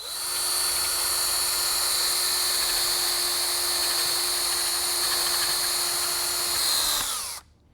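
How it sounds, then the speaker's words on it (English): A power drill whines at a steady high pitch for several seconds, loud and close, boring holes in wood while carving leaves, then winds down abruptly as it stops. "I take my drill bit and start to make holes."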